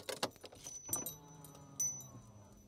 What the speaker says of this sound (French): On va tout de suite allumer la voiture.